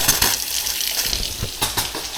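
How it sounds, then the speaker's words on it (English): Water gushes steadily from a newly connected tap in a house under construction as the last air clears the pipes, a continuous close hiss with brief sputtering bursts. "We got water here."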